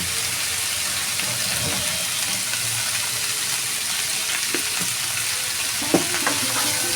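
Snake gourd and potato fry in a pan with turmeric and salt, a continuous sizzling hiss broken by scraping stirs and a few sharp clinks of the spatula near the end, with no talking.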